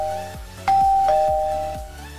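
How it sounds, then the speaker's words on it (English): A two-tone ding-dong doorbell chimes in Mr. Crayfish's Furniture Mod for Minecraft, a clear electronic chime ringing out close and loud, then fading slowly, with no voices over it. "I also forgot, doorbell."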